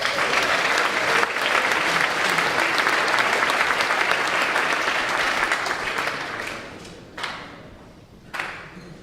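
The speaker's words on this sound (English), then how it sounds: "Please hold your applause." Audience applause at a high school baccalaureate scholarship ceremony, a sustained dense wash of clapping from a large crowd that fades out, followed by a couple of brief isolated bursts.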